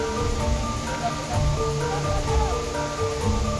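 Tumpak Sewu waterfall roars as a broad, steady rush of falling water, with faint voices and other mixed sounds under it.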